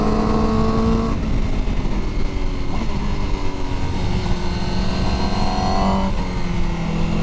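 Aprilia RSV4 1100 superbike engine roaring at high revs, loud and continuous with rising and falling pitch as it accelerates, alone without talk.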